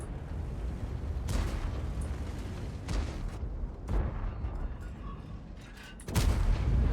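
Cannon shots from the Nergal tank in a video game, firing on an E50: several heavy booming blasts spaced a second or so apart over steady rumbling engine noise, with a louder, closer shot near the end.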